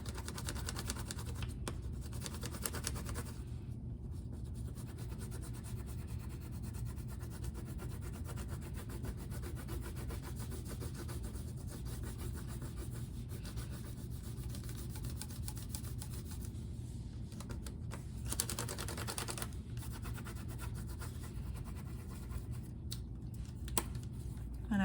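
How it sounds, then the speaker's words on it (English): A brown crayon colors on paper in a quiet craft setting, giving a soft, continuous scratchy rubbing with brief pauses between strokes. "take your brown crayon and we are gonna color"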